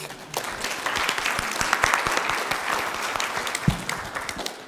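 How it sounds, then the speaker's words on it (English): An audience at a poverty assembly gives a warm round of applause, with dense, steady clapping from a large crowd that holds close and even for several seconds and a few louder individual claps standing out. "a round of applause for that group"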